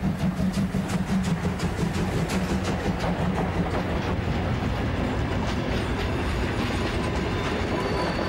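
Steam express locomotive 01 1531 hauling a passenger train with Russian long-distance coaches at over 120 km/h, a steady loud rush of wheels with rhythmic clickety-clack over rail joints, no voices.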